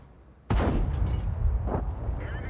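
A single heavy tank cannon blast in World of Tanks, from a T-54 LT, booms out suddenly, followed by a rumbling echo and some faint mechanical clanks as it fades.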